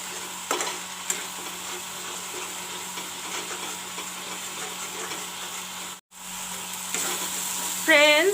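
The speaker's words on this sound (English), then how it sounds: "I will let the masala turn brown." Masala with chili powder and jeera powder sizzles steadily in hot oil, a continuous close frying hiss with occasional stirring scrapes and a brief dip near the end.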